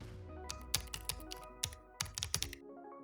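Fingers typing on a computer keyboard while entering an author's name and institution into online form fields, a quick, uneven burst of close, crisp key clicks that stops after a couple of seconds.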